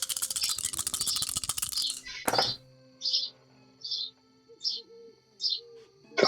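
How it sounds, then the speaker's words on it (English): Birds chirp in short, bright bursts spaced about a second apart, clear and moderately near, following a louder rattling clatter and a thunk at the start. "Sounds more like birds."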